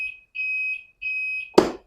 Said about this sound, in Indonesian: ada alarm mati lampu juga bisa dihidup, bisa dimatikan